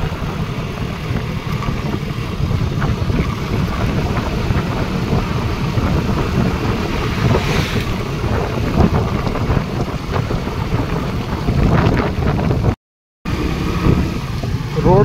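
A Hero Passion Pro motorcycle rides along a narrow, potholed road, its engine a steady rumble buried under heavy, continuous wind buffeting that stays loud throughout, with a brief dropout near the end.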